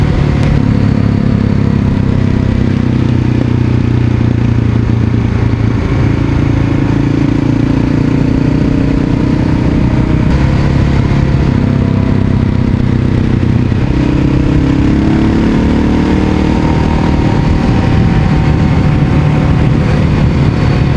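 Motorcycle engine with a leaking exhaust gasket where the muffler meets the header, running loud and steady with a rough clattering drone and shifting revs throughout, no voices.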